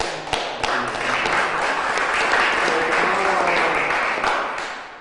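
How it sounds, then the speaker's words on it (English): People at a COVID-19 press briefing in Springfield give sustained applause, a thick, even patter of many hands with a few sharper claps near the start, tapering slightly at the end. "let's give them a big round of applause"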